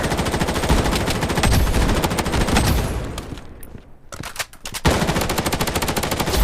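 Gunfire in the mobile shooter video game Project Bloodstrike, dense rapid automatic bursts up close, a brief lull and sharp single shots, then another sustained burst of fire.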